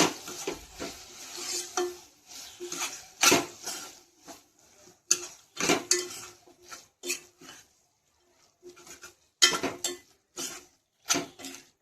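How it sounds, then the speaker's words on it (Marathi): Coriander is stirred into ridge gourd bharit in a pan, giving intermittent close scraping and clattering of a spoon against cookware in uneven bursts with brief quiet gaps. "त्यात थोडी कोथिंबीर हे कालवून घ्यायचं आहे छान"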